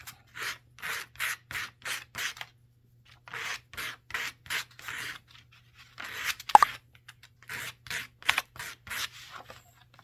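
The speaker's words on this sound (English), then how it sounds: "Just take a piece of sandpaper. Just soften up the ends of the dowels a little bit." Rhythmic back-and-forth rasping of sandpaper on the ends of wooden dowels, in quick bursts of strokes separated by short pauses.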